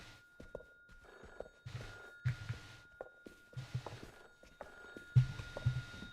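Old-style telephone bell rings in a spooky video game demo, a series of repeated trilling bursts in a steady ring-and-pause pattern, fairly close and clear with quiet thumps between rings.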